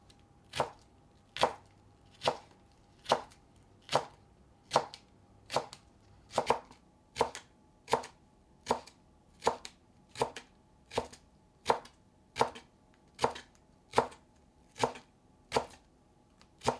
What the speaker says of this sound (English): Chop it thin along the fiber.